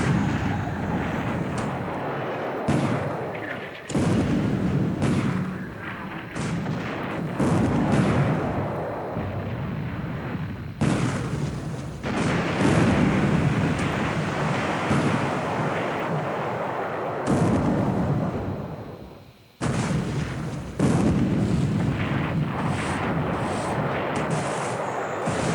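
Naval gunfire in a nighttime destroyer-versus-destroyer engagement in the War in the Pacific game: sustained booming barrages and rumbling blasts, loud and near, pausing briefly around the middle and near the end, with no talk.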